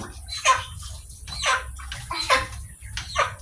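Water splashes and sloshes during a bath, four bursts of splashing about a second apart, close and fairly loud over a low steady background.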